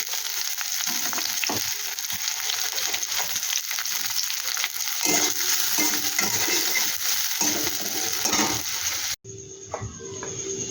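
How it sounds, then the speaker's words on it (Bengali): A large onion fries in hot oil with a constant close, crackling sizzle and occasional stirring scrapes, then an abrupt cut to a quieter stretch of frying. "দেখো পেঁয়াজটা বেশ সুন্দর আমার ভাজা ভাজা হয়ে গেছে"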